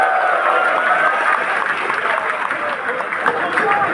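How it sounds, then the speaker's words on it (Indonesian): A crowd at a street protest in Bali claps together under a sustained mix of voices, steady and fairly loud throughout. "mari sama-sama tepuk tangan dulu."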